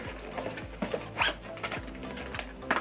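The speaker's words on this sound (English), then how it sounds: "And then you zip it up" A makeup bag being zipped shut, giving short rasping zipper runs with light handling clicks and rustles, close and moderately loud, with no talking.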